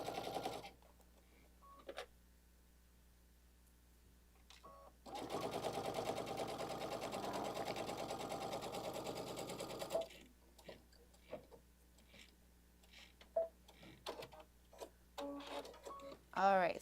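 Sewing machine stitching in a steady fast run for about five seconds, with quiet handling noises and brief clicks before and after.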